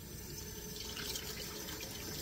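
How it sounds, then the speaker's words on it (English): Hot water running steadily from a tap into a bowl being washed after mixing bread dough ingredients, a continuous even rushing and splashing at close range with no pauses. "Now you have to wash that bowl that we put the ingredients in to get the dough with hot water"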